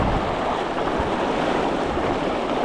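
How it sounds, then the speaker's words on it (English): Raging river water rushes steadily alongside gusting wind in a constant, dense roar with no pauses, close and loud during big-water trout fishing. "this water is raging right here, so a lot of hooking and hoping here. A lot of wind too."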